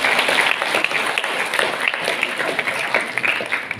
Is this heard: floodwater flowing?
no